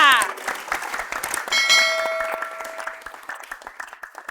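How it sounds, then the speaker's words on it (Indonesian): Audience clapping at a casual lesehan-style entertainment show, a scattered patter of hands running throughout, mixed with ringing bell-like tones and music, with voices talking over it. "Tepuk tangan untuk saya."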